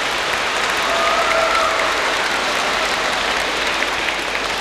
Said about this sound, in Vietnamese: cho nên là một tràng pháo tay nữa để cảm ơn tất cả mọi người